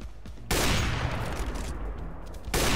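Counter-Strike: Global Offensive gunfire, a loud continuous barrage of rapid shots lasting about two seconds, followed by another burst starting at the end.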